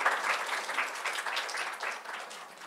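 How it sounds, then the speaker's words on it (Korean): An audience at a Korean science-culture innovation forum gives steady applause welcoming a presenter, a moderately distant patter of many hands that fades slightly toward the end, with no voices. "큰 박수로."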